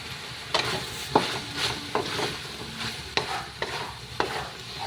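String beans are stirred in a frying pan over a soft steady sizzle, with a spatula scraping and tapping against the pan about eight times at an irregular pace, close up and with no talking.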